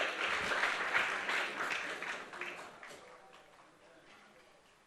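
Applause from an awards ceremony crowd for a speaker taking the platform, strong at first with dense clapping, then gradually thinning and fading away.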